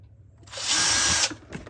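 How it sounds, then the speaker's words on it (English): A power drill bores into the plastic shell of a Halloween animatronic pumpkin, giving one close, loud whirring burst of about a second that winds up and stops abruptly. "that we get drilling in this freaking plastic"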